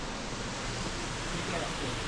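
A small waterfall near a temple, heard as a steady, even rush of falling water with no breaks, moderately loud and close.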